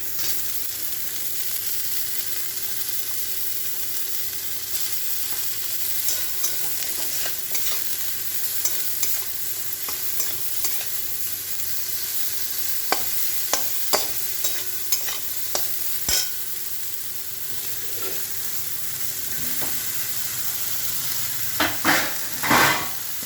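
Broccoli with garlic frying in a pan, a steady sizzle broken by scattered clicks and scrapes of stirring, growing busier near the end, with no talking.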